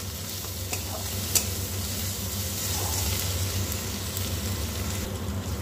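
Chopped onion and crushed garlic fry in a pan while light jackfruit and prawn curry is cooked with little oil. The sizzle is steady and close, with faint clinks of stirring and no talk.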